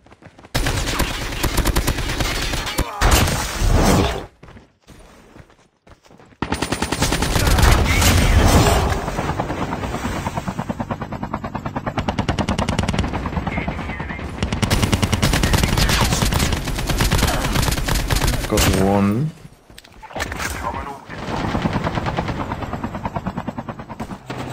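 AK-47 fire in Call of Duty Mobile battle royale, loud automatic bursts over a steady game din, with pauses and short silent gaps between stretches of shooting.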